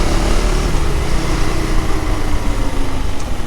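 Steady, loud engine drone from a motorcycle riding on the Agumbe Ghat road, continuous rumbling with wind noise throughout, no talking.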